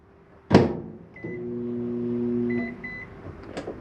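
A door clunks, then a microwave oven in a 2013 Jayflight 26BH travel trailer hums steadily with a low electric drone, a few faint beeps, and another click at the end.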